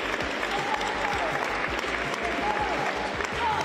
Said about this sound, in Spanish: La ovación de todos los presentes